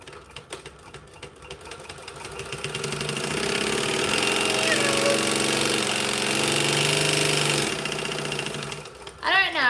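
A sewing machine runs at high speed for several seconds, a loud, close, rapid mechanical whir that starts after quiet handling noises and stops abruptly near the end, with a voice speaking briefly afterward.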